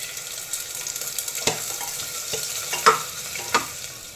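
Chopped onion, garlic and ginger fry in a pan while being stirred: a soft, steady sizzle broken by several clacks and scrapes of the spoon against the pan.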